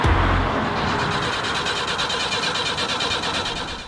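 The engine of an old Bedford van runs with a rough, throbbing mid-range drone, loud and close. A heavy low thump comes at the very start, and the engine then keeps a steady, rumbling pulse.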